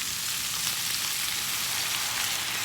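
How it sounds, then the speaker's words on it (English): Beef searing in a pot gives off a steady, bright sizzle that holds at an even loudness throughout with no voices. "while that is searing, the meat's seared enough"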